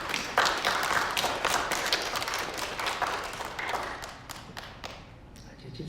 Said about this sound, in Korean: 다시 한번 우리 축하의 박수 하겠습니다.